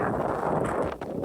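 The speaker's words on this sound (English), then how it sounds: "Holy, it is windy here." Strong wind buffeting a microphone on a cold Saturday night walk through Chatham in January, a steady broadband rush with constant gusting that dips briefly near the end.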